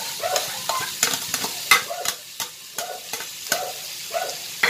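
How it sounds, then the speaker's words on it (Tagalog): Shredded chicken fries in a hot pan, with a soft sizzle beneath repeated sharp scrapes and clacks of stirring, close and fairly loud in an uneven rhythm. "ilagay na po natin yung pinaghimay natin na chicken sa mainit na kawali"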